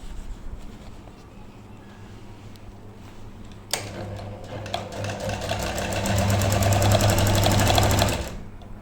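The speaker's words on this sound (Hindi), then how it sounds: "अभी हम इसको सिलाई लगाते हैं।" A sewing machine stitches a sleeve into an armhole, starting after a few quiet seconds with a click, then running in a fast, even rattle that grows louder and steadier before stopping near the end.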